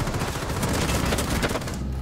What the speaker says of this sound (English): he's pre-firing you with that 20 bullet gun